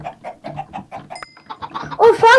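Chickens in Minecraft cluck in a quick series of short, close calls, followed by a louder burst of squawking at the end.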